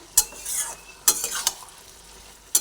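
Curry frying in oil with prawns, stirred in a pan: a few sharp spoon scrapes and clatters against the pot over a soft sizzle, close and without talk.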